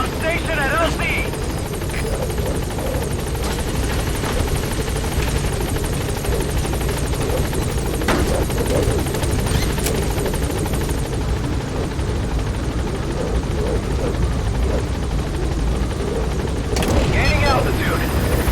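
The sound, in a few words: helicopter at landing zone, from the video game Metal Gear Solid 5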